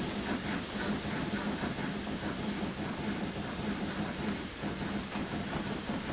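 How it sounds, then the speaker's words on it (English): A steam locomotive running in the Transport Fever 2 video game, giving a steady loud hiss and chuffing roar that fills the whole stretch evenly without pause, with no talk over it. "It really is quite loud with all the steam going off."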